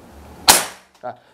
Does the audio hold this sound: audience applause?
no